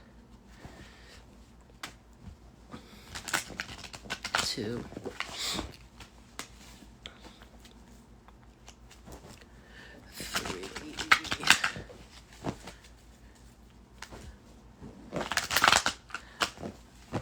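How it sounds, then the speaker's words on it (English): A deck of cards is shuffled by hand in a quiet room, with riffling bursts and clattering flurries arriving in a few separate rounds among soft handling sounds, and a brief spoken word. "let's shuffle these up"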